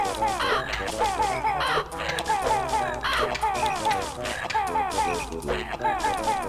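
A bird caws over and over in the video game Banjo-Kazooie, harsh repeated calls filling the whole stretch, loud and close, with background game sounds.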